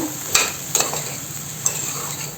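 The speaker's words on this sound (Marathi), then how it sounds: "आपण या भाज्या ना अशा छान परतून घेऊया" Mixed vegetables being sautéed in a pan for a simple Konkan-style mixed vegetable dish, a steady close sizzle broken by a few sharp scraping stirs, with no voices.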